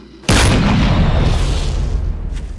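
A single loud, booming .50 BMG rifle shot fired at a rabbit in the game 7 Days to Die, a sudden close blast followed by a long rumbling decay.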